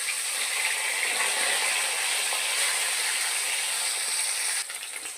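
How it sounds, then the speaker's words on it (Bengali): Snakehead fish pieces frying in hot oil in a pan give a steady, dense sizzle that stays loud and continuous throughout, easing slightly at the very end. "মাছগুলোর এক পিঠ ভাজা হয়ে গেলে এবার উল্টে দিয়ে আর এক পিঠ ভাজা করে নেব।"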